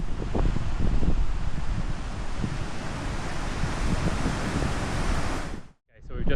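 Strong wind buffeting a microphone on the South Coast of New South Wales, Australia, a loud continuous roar with gusty swells mixed with surf-like wash, briefly cutting out near the end.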